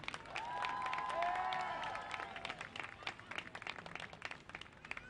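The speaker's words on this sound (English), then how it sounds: "give them one more round of applause to all of our senior players" A crowd at a high school football game between Winslow Township and Holy Spirit applauds, swelling at first, then thinning into scattered claps that ring out fairly far off.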